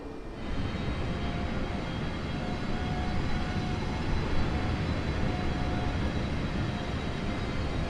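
An airliner in Microsoft Flight Simulator comes in to land, its engines a steady, loud, broadband roar with a faint whine, continuous and unchanging throughout.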